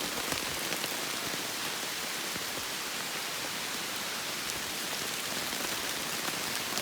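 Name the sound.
hard rain falling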